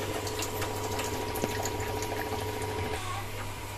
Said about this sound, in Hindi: ये जो वेस्ट पानी हमारा देखिए निकल रहा है, और ये जो फिल्टर पानी है ये फिल्टर पानी हमारा निकल रहा है